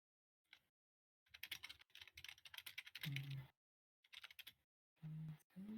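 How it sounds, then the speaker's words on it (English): Rapid bursts of keyboard typing, close and crisp, in several clusters separated by brief pauses, with a low thump between bursts. "So if you hear me typing, don't worry about it."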